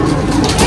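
Golden Kamagar pigeons coo in a loft among pigeons for sale, a continuous low, throaty rumble of overlapping calls that stays close and fairly loud throughout.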